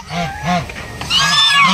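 A pair of domestic geese honking loudly and close by in a farmyard, several harsh rhythmic honks in quick succession followed by a higher, hissing call.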